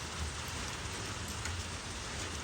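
Steady rain falls continuously, a dense broadband hiss with low rumble underneath, unbroken and fairly loud throughout with no voices.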